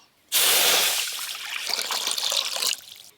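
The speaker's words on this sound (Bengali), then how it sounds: "প্রথমে আজকে মোচা সেদ্ধ করব, তাই কোঁড়াতে একটু বেশি করে জল দিয়ে দেব" Water poured into a cooking pot for boiling banana flower, a sudden loud splashing rush that starts abruptly, eases into a gurgling stream and stops after nearly three seconds.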